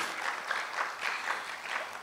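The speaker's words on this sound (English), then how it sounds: "Come on, this worth an applause." An audience at a business forum claps steadily for a couple of seconds, a moderately loud, even wash of applause from the room.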